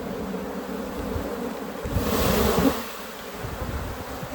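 Honey bees, recently moved from Africanized to European stock, hum in a dense, continuous drone around an open hive during an inspection, swelling louder briefly midway, with no speech.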